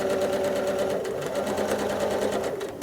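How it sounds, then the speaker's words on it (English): A sewing machine doing free motion quilting, travel stitching back along a line, runs close and loud as a steady, fast mechanical hum with rapid even stitch pulses and no talk. "there's a really easy way of hiding that, kind of fudging it, and that's to stitch right along it again"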